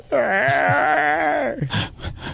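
A single long, drawn-out yawn with a moaning, falling tone, trailing off into a few soft breathy sounds.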